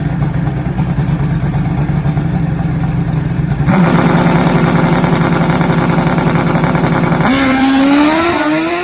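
A 600 hp nitrous Pro Mod Suzuki drag motorcycle roars loudly at launch during drag racing eliminations in the heat of the day, its engine note jumping sharply and then climbing through rapid gear changes in a steady, sustained blast.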